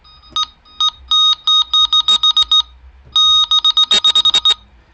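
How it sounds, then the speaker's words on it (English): A series of sharp electronic beeps from a Delkim fishing bite alarm, spaced at first and then coming in quick bursts, loud and close. "I will now tweak the alarm over here."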